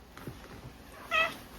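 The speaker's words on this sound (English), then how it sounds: "She can't just stare at these dogs and start meowing in their face." A house cat gives one clear, short meow near the end, mid-pitched and fairly close, after a quiet stretch with faint background noise.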